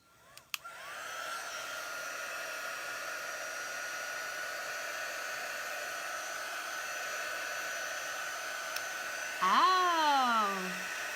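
A heat tool blows steadily for about ten seconds, drying black chalk paste on a font transfer, with a brief click at the start and a louder whining swell near the end.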